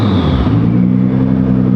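Nissan GT-R engine on a stock downpipe with no exhaust fitted, revving loud and close in one sustained raw, droning pull with a strong low rumble; no voices.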